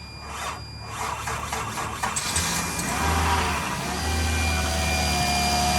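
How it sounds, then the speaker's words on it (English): A worn-out junk Nissan Murano cranks after a few seconds of faint clatter, then catches and settles into a steady, moderately loud idle at close range, with no voices. "Now we're going to see if we can at least get this thing started"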